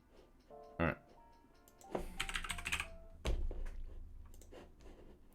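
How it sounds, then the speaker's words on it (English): Keys tapped on a computer keyboard during Python and JavaScript programming, with a few louder thunks and a dense run of clicks in the middle, heard close and quiet alongside faint talking. "Or is this program just so used to me just typing this in?"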